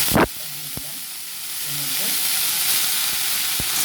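Garlic and leafy greens fry in a hot pan, a steady broadband sizzle swelling after a sharp clatter at the start, with a few faint stirring knocks along the way and no talk.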